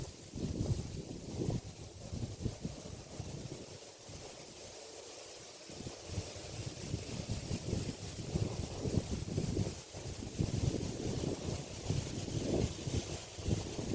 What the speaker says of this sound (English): because it's such a windy day